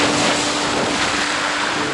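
Wind at sea aboard a Pogo 3 racing sailboat in the Minitransat off Mauritania, a loud, constant broadband roar buffeting the microphone, with no speech.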